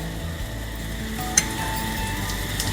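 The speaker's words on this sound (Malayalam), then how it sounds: "ഈ മെൽറ്റായ ബട്ടറിലേക്ക് നമ്മൾ ഇടാൻ പോകുന്നത് ഇച്ചിരി കറിവേപ്പില, നമ്മൾ നേരത്തെ എടുത്ത് വെച്ച കറിവേപ്പില" Curry leaves sizzle in melted butter for a mushroom masala filling, a steady close crackle with one brief metallic clink of a utensil partway through.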